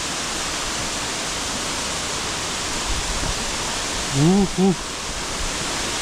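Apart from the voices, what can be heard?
waterfall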